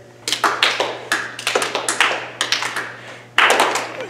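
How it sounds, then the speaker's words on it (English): Applause at a festival talent show: a small audience clapping in several bursts, fairly close and lively, with no talk over it. "Everyone, please give a round of applause for Arthur."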